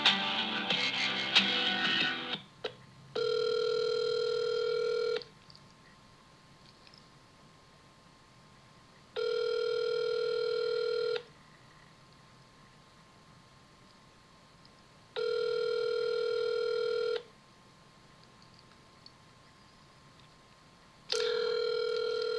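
An outgoing call rings back with four long, evenly spaced tones, each about two seconds, separated by quiet gaps, after a brief burst of noise at the start.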